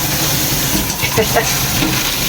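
Beef tongue sizzles and hisses steadily while it is sautéed in a pan, with faint stirring scrapes coming through the frying noise.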